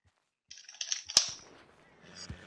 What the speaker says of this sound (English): I heard all the button smashing and the gunshot